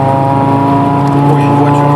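An Audi car engine on overrun while shifting gears gently, giving a loud, steady droning hum with strong tonal harmonics that holds without pause, heard from inside the car.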